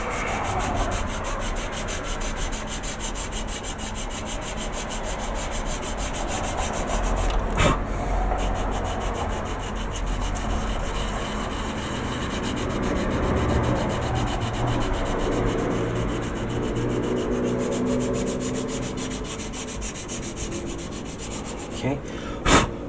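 Coarse side of a sanding stick lightly rubbed over a part of a 1/600 Star Trek Enterprise TOS model kit, giving a continuous close scratchy rasp with gentle back-and-forth swells for over twenty seconds, a couple of brief knocks.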